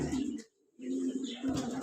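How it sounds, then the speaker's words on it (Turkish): A pigeon or dove coos nearby in two low, rounded phrases separated by a brief pause, with a faint hiss of background noise. "Bu kuş çok güzel ama bu kuş."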